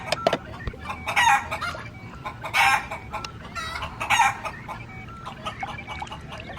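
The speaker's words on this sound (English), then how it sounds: "I am a chicken" A toy farm animal plays chicken sounds: clucking and a rooster crowing in repeated bursts, close and clear, over faint background noise.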